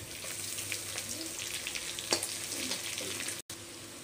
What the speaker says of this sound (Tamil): இப்போ நம்ம வெங்காயத்தை ஆட் பண்ணிக்கலாம்.